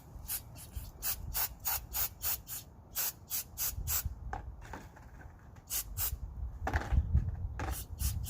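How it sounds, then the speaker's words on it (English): Carburetor cleaner sprays onto parts in a dish in a rapid series of short, sharp hissing bursts, close up, with brief gaps and faint clinks between them. "You just go ahead and spray it off and clean it off"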